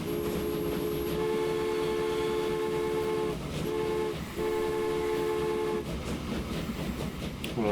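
Trains in the video game Transport Fever, a long sustained train horn blaring in repeated tones over rumbling rail noise and wheel clatter, with short gaps between horn blasts.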